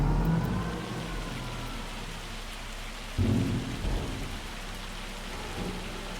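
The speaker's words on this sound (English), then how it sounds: "Oh, here comes the hail." Heavy rain and rolling thunder from a hailstorm in the video game Farming Simulator 25, a dense steady hiss with deep rumbles surging twice.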